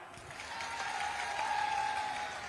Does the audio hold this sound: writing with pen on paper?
no